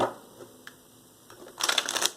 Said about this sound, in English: Let's get 3 shuffles here.